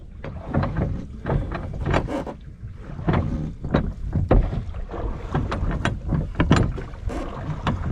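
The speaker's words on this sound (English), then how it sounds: "we're rowing with the current today" Oars stroking through river water as a lugger boat is rowed with the current, giving repeated splashy pulls at an uneven rhythm, close by, with wind buffeting the microphone throughout.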